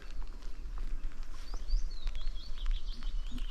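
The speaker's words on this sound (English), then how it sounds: "Got the birds tweeting" Birds tweeting outdoors on a misty, rainy day in the Yorkshire Dales, light chirps and short song phrases at moderate distance over a patter of rain.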